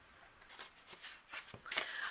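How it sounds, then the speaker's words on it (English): Paper panels and small bumblebee cutouts crank through a manual die cutting machine, giving soft crinkling and rustling scrapes with a few brief crisp ticks, close and quiet over a couple of seconds. "through our die cutting machine."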